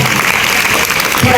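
Loud, continuous applause fills the hall at an Iqbal Day school quiz competition, a dense roar of clapping from a crowd heard up close with no pause.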